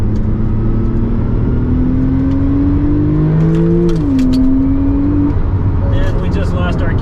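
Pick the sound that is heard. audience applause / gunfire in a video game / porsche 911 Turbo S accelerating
porsche 911 Turbo S accelerating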